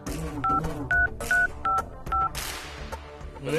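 A phone number is keyed in: five evenly spaced keypad tones beep one after another, clear and close, followed by faint background noise with no talking.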